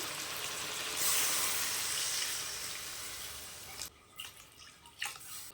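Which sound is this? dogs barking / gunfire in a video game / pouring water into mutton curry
pouring water into mutton curry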